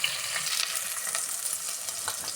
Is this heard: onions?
yes